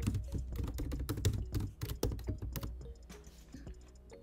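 Quick, steady typing on a computer keyboard, with dense close key clicks and clacks that thin out toward the end, with no talking.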